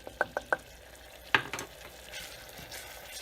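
Garlic cooks in a pan for scalloped potatoes, a quiet sizzle under a few sharp utensil taps at the start and a scraping stir midway.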